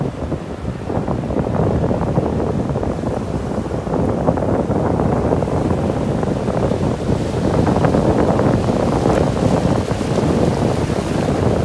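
Ocean waves wash onto a beach in North Naples, Florida, a steady broad roar with gentle surges, heavily mixed with constant wind buffeting the microphone.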